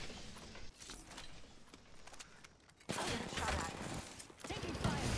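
Gunfire in a squad-based shooter video game, bursts of shots that grow much louder and denser halfway through, with a voice talking under the shooting.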